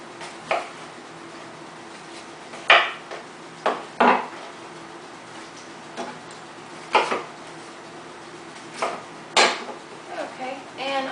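Apples being cut into quarters on a board, with scattered sharp knife taps and clunks at irregular intervals over a low room hum, some louder than others, without talk.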